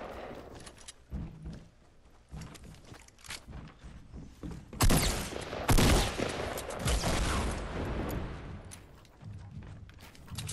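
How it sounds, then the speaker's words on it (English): Bursts of video game gunfire in a duos match, with rapid overlapping shots that swell loudest in the middle over a busy background of footsteps and thuds. "There's someone else shooting me!"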